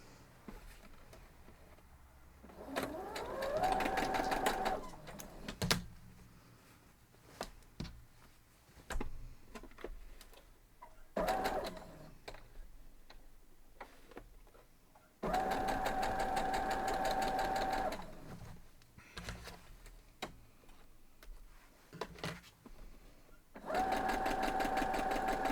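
A sewing machine stitches a quilt block seam in bursts of steady, rapid whirring, pausing between runs with small clicks and handling noises, close and fairly loud, with no talking.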